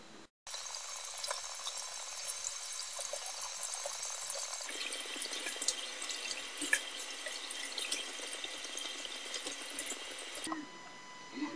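Water running steadily from a sink tap while a face mask is rinsed off skin, a close continuous splashing hiss with small shifts in flow and faint drips, stopping near the end.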